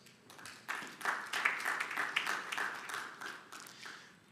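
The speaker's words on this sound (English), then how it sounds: "let's welcome the judges with a round of applause" An audience at a debate final applauds to welcome the judges, a swelling wash of many hands clapping, moderately distant, rising quickly then tapering off.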